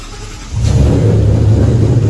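A lightly modified 2014 Shelby GT500 engine on a dyno pull climbs from a low idle into a loud, sustained roaring rev with deep rumble, heard alone and close.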